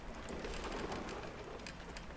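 Rain falls in the Journeyman Project 3: Legacy of Time game, a soft, steady, faint patter and hiss with scattered drips and no voices.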